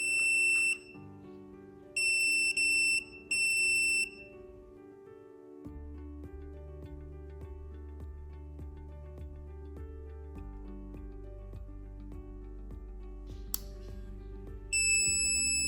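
K18 magnetic detector beeping near a suspected magnetic object: short high-pitched beeps in bursts of two or three, then a long gap with low tones and clicks, and a final beep at the end, with no talking.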